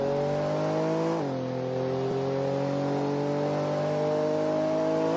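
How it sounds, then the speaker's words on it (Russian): Virtual car engine in a Roblox racing game, a steady loud motor drone with a slight dip in pitch partway, then holding even, with no talk over it. "он готов вместо музыки слушать, как едет машина. Рёв машины – наше всё."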